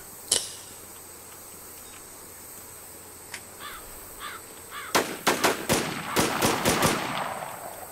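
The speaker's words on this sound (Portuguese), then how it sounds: "onde é que vêm os tiros?" Gunfire in the zombie survival game The War Z: one sharp shot early, a couple of isolated pops, then a rapid cluster of loud, cracking shots in quick succession, with crow-like caws and faint chirping in between.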